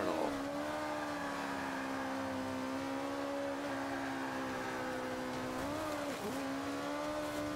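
Race car engine in a racing video game, a steady droning whine that holds one pitch, then dips and rises near the end, with faint tire noise underneath.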